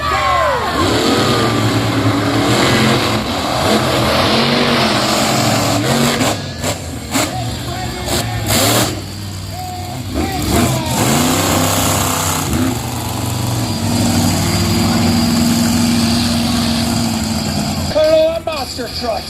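Monster truck engines rev and roar at a monster truck show, loud rumbling bursts rising and falling with throttle changes, under an announcer's steady talk through most of the stretch.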